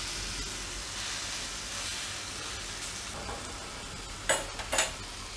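Farali uttapam cooks on a pan with a steady, soft sizzling hiss throughout, followed near the end by two brief scraping clicks close by, with no talking.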